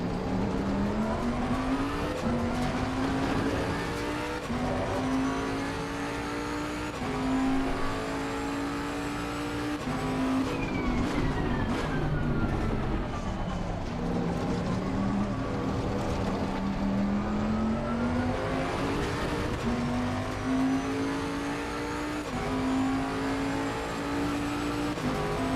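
Video game car engines in Gran Turismo 7 play loudly through a racing wheel's force-feedback audio, revving up and down in long rising and falling sweeps with gear shifts, with no voices.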